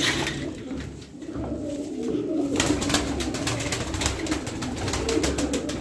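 Fancy pigeons coo steadily at close range, a continuous low murmur with overlapping calls throughout, joined by scattered light flutters and shuffling. No one speaks.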